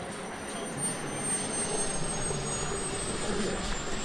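A 1:5 scale RC turbine model F-16 jet flies overhead, its engine roaring steadily, a sustained broadband whine with a high-pitched turbine tone, fairly loud and continuous throughout.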